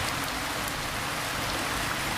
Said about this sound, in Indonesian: Gila ya hujan nepi ka awet kieu